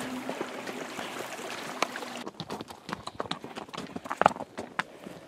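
Horse hooves clip-clopping on a rough mountain endurance trail, with uneven close knocks and crunches from steady walking, over a faint rushing stream-like background.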